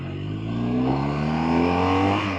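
A BMW R 1250 R motorcycle engine accelerates, its loud, close exhaust note rising steadily in pitch through the rev range without pause, no voices.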